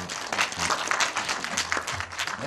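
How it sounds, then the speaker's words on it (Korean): Audience applause for the film's director at a screening talk with guests: dense, continuous clapping from a crowd, steady and moderately loud for the whole stretch. "감독님께 박수 좀 부탁드리겠습니다."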